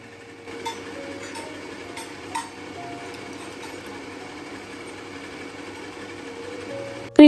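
An electric mixer beats egg whites with a steady, close mechanical whirring that runs unbroken throughout. There are small rattles early on and a sharp clink at the very end.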